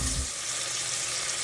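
Bacon sizzles and fries in oil in a pot, a dense, steady crackling hiss heard close up with no voices.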